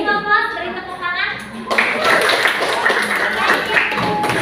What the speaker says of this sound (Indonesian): Give applause, beri tepuk tangan.